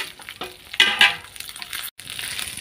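Dried red chillies sizzling in a pan while making karam podi, a steady crackling fry with bursts of louder spitting and a brief scrape of stirring, close and alone.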